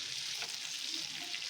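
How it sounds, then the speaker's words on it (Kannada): Bangada mackerel fish frying on a tawa, a steady continuous hiss of hot oil sizzling throughout, close and even, with no voices. "ಚೆನ್ನಾಗಿ ಫ್ರೈ ಮಾಡಿ."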